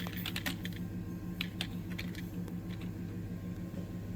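Steady, rapid tapping on a computer keyboard as a search is typed, close and continuous with uneven key clicks over a low background hum.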